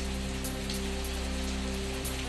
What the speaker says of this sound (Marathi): भंडारा जिल्ह्यात रात्रीपासून सर्वदूर पावसाची हजेरी